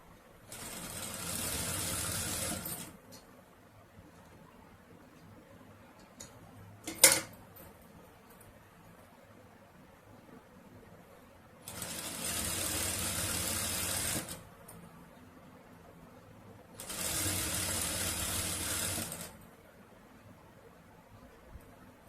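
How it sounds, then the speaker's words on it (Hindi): Sewing machine stitching the bottom seam of a jacket lining cut from a sari pallu, heard in three separate runs of steady whirring, each a few seconds long, with a sharp clack between the first and second and quiet pauses in between. "पहले नीचे की सिलाई लगा लेंगे, इस तरह से मोड़ के थोड़ा सा कपड़ा।"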